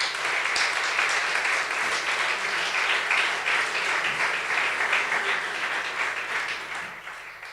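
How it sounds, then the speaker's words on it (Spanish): A church congregation gives sustained, fairly even applause, many hands clapping together in a full, steady roar that softens slightly toward the end. "Aplaudo al Señor."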